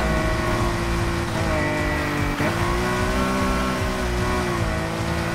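A Nissan R34 GT-R V Spec in Need for Speed Heat, its engine droning steadily at high revs with slight pitch shifts, loud and close, running without a break.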